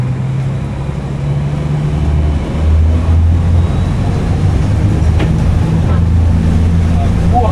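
Warm houseboat engines throttling up on the water off Texel near Den Helder, a loud steady low rumbling drone with a slight swell in intensity, while a person speaks over it.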